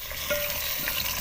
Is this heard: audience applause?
no